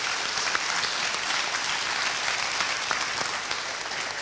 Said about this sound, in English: can we just give them one more big round of applause, please?